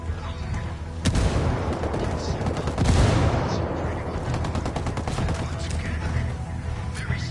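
Gunfire and a frag grenade blast in the combat shooter Ghost Recon Wildlands: a sharp crack lands early, then a heavier burst hits midway, with dense, rattling shots continuing loud and close throughout.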